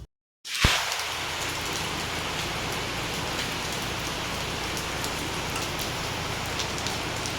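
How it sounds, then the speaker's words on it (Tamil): Heavy rain pours down outdoors near a cooking area, a dense loud hiss that starts abruptly after a brief silence and a sharp knock, then continues unbroken to the end. "அடுப்பில் செய்யலாம்னு பார்த்து நல்லா மழை வந்துட்டுது."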